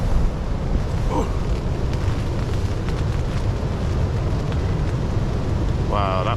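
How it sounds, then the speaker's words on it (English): Strong storm wind batters a tent while wild camping during Storm Darragh, a loud, continuous roaring rush with heavy low rumble and flapping gusts. A person's voice briefly rises over it near the end. "Wow, that wind."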